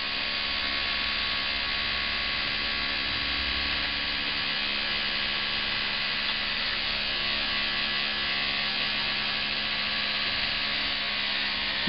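DIY centrifuge made from a hard drive spinning at speed, a steady high-pitched electric whine with an even mechanical hum that holds unchanged throughout, close and continuous.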